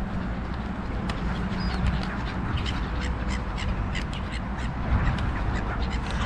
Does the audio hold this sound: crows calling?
yes